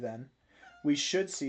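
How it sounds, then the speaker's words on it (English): A pet cat named Fiki meows several times up close, short bright calls in quick succession after a brief pause, while someone speaks just beforehand. "That's my cat."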